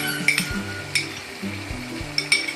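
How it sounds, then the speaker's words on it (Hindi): Spiced yogurt masala fries in a pan for chicken karahi, with a steady low sizzle under sharp metal clinks and scrapes of a spoon stirring at close range. "अब इन सब चीज़ों को मैं अच्छी तरह भून लूँ।"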